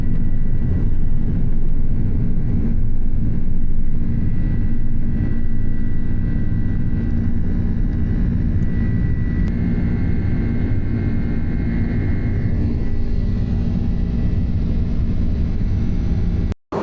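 Steady, loud airplane cabin drone on an Aer Lingus transatlantic business class flight to Chicago, a dense low engine and airflow roar that holds constant throughout, with no talk.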